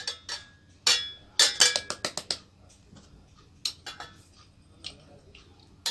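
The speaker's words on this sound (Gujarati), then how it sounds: "હવે આપણે સગલા ઇન્ગ્રીડિયન્ટ આમાં નાખી દઈશું." Dry brownie premix ingredients go into a mixer jar, producing a scattered series of sharp clinks and taps of spoon against jar, some quick and clustered, others isolated, close and fairly quiet.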